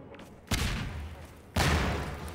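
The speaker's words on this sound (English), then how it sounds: "Oh, there goes our grenade." A grenade in Half-Life 2 goes off in two sharp, loud booms about a second apart, each leaving a rumbling tail that fades slowly.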